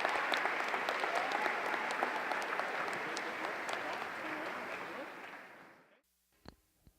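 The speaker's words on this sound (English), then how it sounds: "let's keep that applause going" Sustained audience applause at a Port Coquitlam May Day opening ceremony, a dense steady wash of many hands clapping for about six seconds before cutting off, followed by a few faint isolated sounds.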